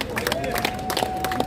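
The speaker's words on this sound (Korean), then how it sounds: "박수로 환영해 주시기 바랍니다." An outdoor crowd at a political rally claps to welcome a speaker, scattered uneven applause mixed with crowd murmur and a voice over a loudspeaker.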